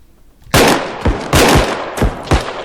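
Four loud, sharp SVD rifle shots spaced slowly apart, each with a booming tail, from a bodycam-style video game firefight.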